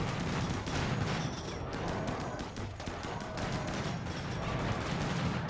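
Automated turrets in a video game fire in a dense, continuous rattle of rapid shots that fills the whole stretch loudly and without pause.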